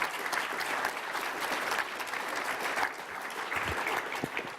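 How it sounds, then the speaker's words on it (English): An audience at an evening public policy event applauds steadily, a moderately distant wash of many hands clapping throughout with a few louder claps near the end. "a round of applause for Matt."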